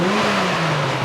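A twin-turbo RB25 engine in a stanced R34 Skyline revs steadily and loudly up close, a continuous droning roar with a slight pitch rise toward the end.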